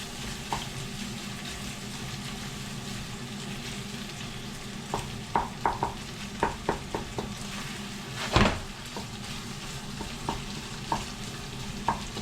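Beef or pork sizzles steadily in a pan under a constant frying hiss, and a spatula stirs it, making intermittent scraping clicks and one louder knock near the pan, with no talking.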